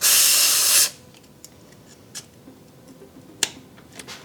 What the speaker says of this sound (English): Just gonna put the connector on with some contact spray.